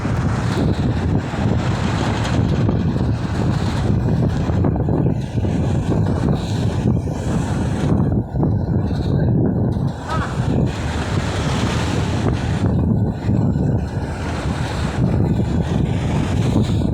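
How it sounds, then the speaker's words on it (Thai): Heavy wind roars across the microphone from an open-top convertible car riding along a small road in Surat Thani, a dense, unbroken rush that stays loud throughout with no clear voices. "อากาศดีลมดีครับบรรยากาศสุราษฎร์ธานีนะครับ"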